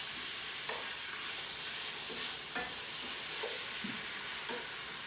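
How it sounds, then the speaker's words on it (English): Salt cod pieces fry in a stir fry pan with a steady, dense sizzle and hiss, broken by a few soft stirring scrapes and knocks, close and continuous with no talk. "put pieces of baccala in here, in my stir fry"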